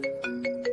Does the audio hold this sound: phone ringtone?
yes